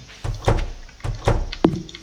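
A door is placed in the farming video game Stardew Valley, giving a couple of soft thumps and then a short, sharp wooden knock, clean and close.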